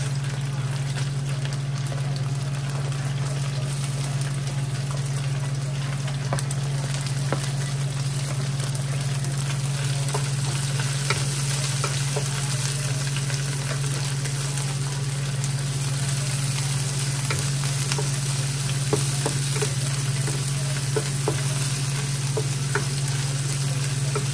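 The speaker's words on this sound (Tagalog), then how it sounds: "Lagyan na natin ang ating sibuyas." Garlic and onion sautéing in a frying pan, a steady continuous sizzle with light stirring scrapes, close and alone throughout, over a constant low hum.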